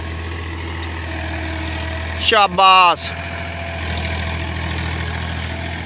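A Powertrac Euro 50 Next tractor engine idles with a steady low rumble and drone throughout, while someone speaks briefly over it.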